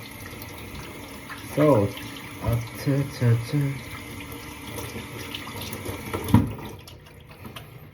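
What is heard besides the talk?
washing chicken under running tap water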